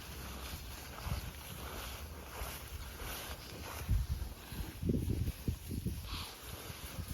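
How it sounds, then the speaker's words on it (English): Wind buffets the microphone outdoors in uneven gusts, with low rumbling thumps and a steady airy hiss underneath. "It's a little bit windy out here today."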